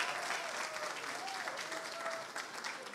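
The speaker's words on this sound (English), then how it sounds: "give another round of applause to Roberta Reardon" Applause from an audience at a public address by New York governor Kathy Hochul, a faint, steady patter of many hands with a voice faintly audible beneath.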